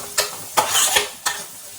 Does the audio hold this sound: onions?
yes